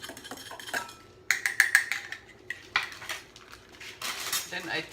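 Confectioner's sugar being mixed in a white bowl, with a spoon clinking and scraping against the bowl in quick uneven bursts, close up and without talking.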